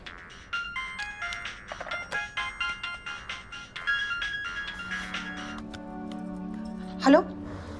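A telephone ringtone chimes in a Hindi family drama, a repeating electronic tone pattern pulsing through most of the clip at moderate level, followed by a brief higher warble near the end.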